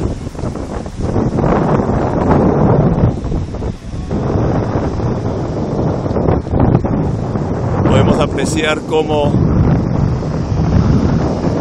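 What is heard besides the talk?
waves and wind around boat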